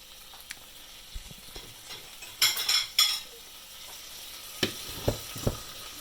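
Tomato and meat frying in a pan for a base curry gravy, a faint steady sizzle broken by a few scraping stirs and sharp utensil clinks.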